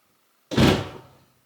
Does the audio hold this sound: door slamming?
yes